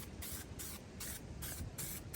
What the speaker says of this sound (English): we're just gonna take some of this spray paint and just